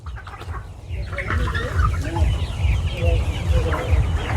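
Coloured broiler chickens cluck repeatedly in a busy farm flock, close by, over a steady low rumble of background noise.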